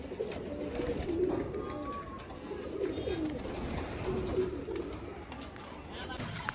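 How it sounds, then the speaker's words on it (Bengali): Female pigeons in a loft give soft, low coos and rustle nearby while a person talks over them, the birds sitting mostly under the voice. "তো এই আমাদের মাদিদের পায়রা।"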